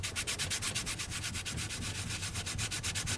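A 3D print is rubbed with pink 4000 grit polishing paper in quick, even back-and-forth strokes, a soft close scratchy swishing with no voices.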